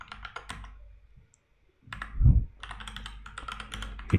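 A password typed on a computer keyboard in quick bursts of close keystrokes, a short pause, then a heavier thump and more rapid clicking.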